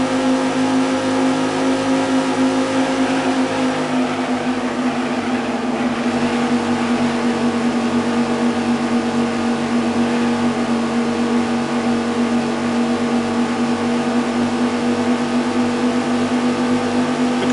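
Race car engines drone and rev in the 1998 racing game Viper Racing, a loud, continuous engine hum that rises slightly in pitch and holds steady throughout.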